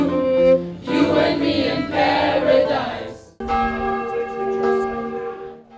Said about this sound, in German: Pünktlich um 12 Uhr rief dann die Glocke der Jakobikirche zur Jutta-Tafel.